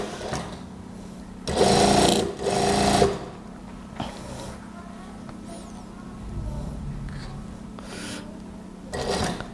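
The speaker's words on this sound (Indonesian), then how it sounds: "setelah itu kita mulai jahit ke bawah seperti biasa" A domestic sewing machine stitches down a Japanese zipper on an A-line gamis, running in two loud, steady bursts near the start, then quieter intermittent stitching and handling noise.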